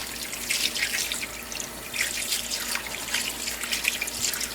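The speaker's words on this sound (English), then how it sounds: "Put some warm water here. Now we're just gonna wash this whole thing." Warm water running and splashing in a sink while a bird skin is washed for taxidermy, a continuous close trickle with small irregular splashes and drips.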